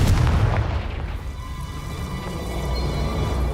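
The Confringo blast spell in the video game Hogwarts Legacy lands as a single heavy boom at the start, a loud rumbling burst that trails off into a low, lingering rush.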